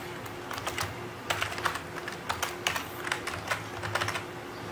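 Steady typing on a computer keyboard, rapid clustered keystrokes with a few firmer presses like the enter key, close and moderately loud over a faint electrical hum, no voices.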